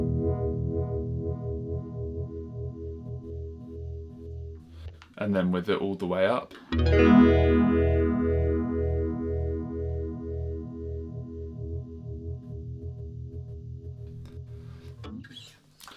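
Electric guitar chords through a Pigtronix EP2 Envelope Phaser pedal pulse with a swirling, sweeping phaser effect; someone speaks briefly partway through, then the warbling guitar continues.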